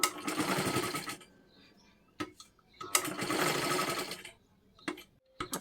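A sewing machine stitches a blouse in two loud, fast-running bursts separated by a quiet pause, with a few brief clicks of handling between and after, close and with no talk.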